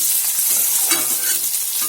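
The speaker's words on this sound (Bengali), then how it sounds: "আমি এই তেলে ভালো করে আলুগুলো ভেজে নেব।" Potatoes frying in hot oil in a pan for Bengali shukto, with a dense, steady crackling sizzle heard close and alone for a couple of seconds.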